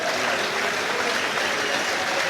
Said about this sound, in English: Well-deserved standing ovation.